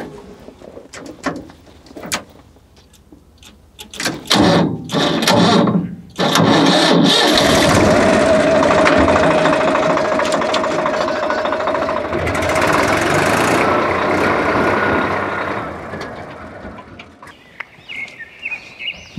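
Tractor engine on a farm cranking with a few bursts, then catching and settling into a loud, steady idling rumble that continues to the end, with birds faintly in the background.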